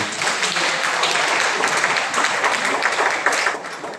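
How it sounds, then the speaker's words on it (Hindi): Audience applause at a classroom talk in India, a dense, steady wash of clapping lasting throughout, loud and close with no break. "जोरदार ताली आप लोगों के लिए।"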